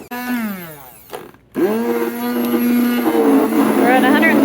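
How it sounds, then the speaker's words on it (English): A blender blade chops through chunks of lye-heavy soap, whirring up in pitch after a short pause and then running steadily and loud, with a voice talking over it. "It's just hitting the big chunks, and it's a blender."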